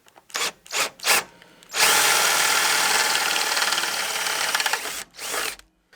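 A power drill enlarges a hole in a snow blower's housing to fit the mounting hardware for a headlight kit, starting with a few short bursts, then a long steady whine for about three seconds and a final brief burst, loud and close.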